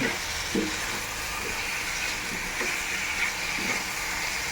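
Soy sauce dish frying in a pan, a dense continuous sizzle with soft stirring scrapes and light knocks, close and steady with no talking.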